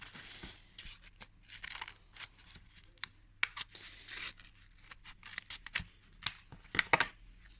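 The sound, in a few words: scissors cutting paper petals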